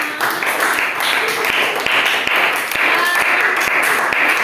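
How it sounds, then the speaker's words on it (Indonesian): Classroom applause for a student group's presentation, a loud, dense wash of clapping with sharp individual claps standing out, sustained throughout with voices mixed in. "Silakan berikan tepuk tangan untuk presentasinya"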